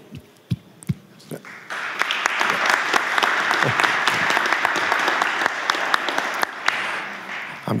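Audience at a ministerial energy panel applauds, starting with a few scattered claps and swelling into sustained clapping that fills the room for several seconds, with some voices underneath.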